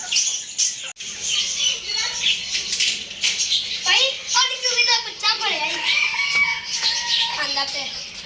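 Chickens cluck and squawk in a busy yard, with a rooster's calls mixed in and voices talking over them.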